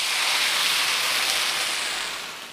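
Boiling water pours into a wok holding a fried fish head, a loud, steady splashing hiss that fades slightly toward the end.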